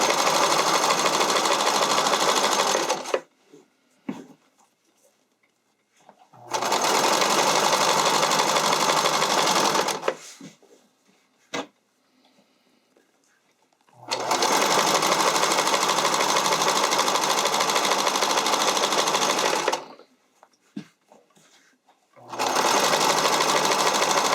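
A sewing machine stitching figure skating skirt fabric onto elastic runs in long loud steady bursts of rapid whirring, stopping and starting four times with quiet pauses between, and a person speaks briefly during the gaps.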